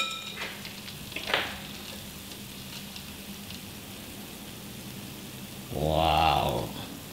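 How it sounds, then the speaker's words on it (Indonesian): Korean-style pentol dough balls made from flour, sugar and yeast drop into hot oil and break into a short, loud sizzle near the end, after quiet kitchen sounds and a couple of small knocks. "udah ngembang gini kita goreng tuh"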